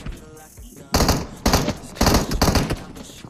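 Several loud, close bursts of shotgun fire in the PUBG Mobile battle royale game: four heavy blasts about half a second apart, each with a sharp broadband crack and a short booming tail over low background noise.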